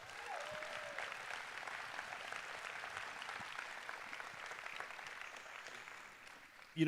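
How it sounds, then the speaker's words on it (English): Faint, distant applause from a gala audience honoring a student at a school fundraiser, a soft, even wash of clapping that holds steady for several seconds. "One more big round of applause for Sienna."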